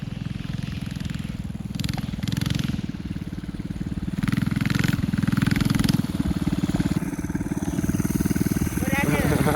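An Arctic Cat Prowler mini bike engine drones steadily at close range, its low buzz rising and falling slightly as the bike passes, with people talking over it.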